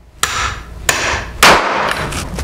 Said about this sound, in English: then I'll take a nice heavy hammer and swing it.